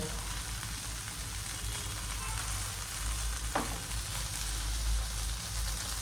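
Soya tikki shallow-fries in a pan with a steady, even sizzle and crackle that holds throughout, close by with one brief scrape partway through.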